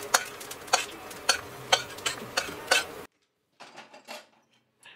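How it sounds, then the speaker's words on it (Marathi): Cumin seeds dry-roast in a pan, a steady series of scraping stirring strokes about every half second, then a short pause and a few softer scrapes. "आता आपण जिरे भाजून घेऊयात"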